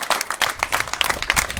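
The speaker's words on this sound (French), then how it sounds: "Je crois qu'on peut l'applaudir" An audience applauds in a short burst of irregular clapping from a modest crowd, fairly close and lively.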